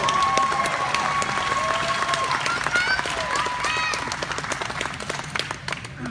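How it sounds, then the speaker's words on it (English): Crowd applause and cheering at a kickboxing debut event, dense clapping filling the arena steadily for about six seconds, with whistles and shouts rising over it and fading slightly near the end. "how about a huge round of applause for these Warriors?"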